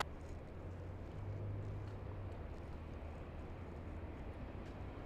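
A Delta airliner taking off from runway 24 left at LAX, heard as a steady, distant, faint engine roar with a low rumble that swells slightly, then holds even throughout.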